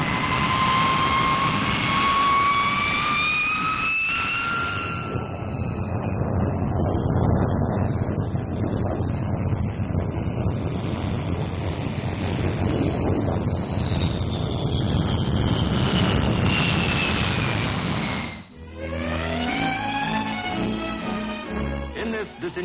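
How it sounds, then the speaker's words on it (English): A Vickers Valiant four-jet RAF bomber of 1951 roars loudly overhead, with rising and falling turbine whines layered over a dense rushing engine noise, followed by a sudden cut to a fresh burst of jet whine. "The RAF's tremendously powerful weapon to come is the Valiant, the new 4-jet bomber"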